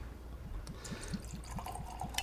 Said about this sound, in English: let's get these things poured, and we will get started.